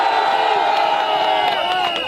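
A gilets jaunes protest crowd in France cheers and whoops as it is harangued, a dense sustained roar of many voices heard close and loud throughout.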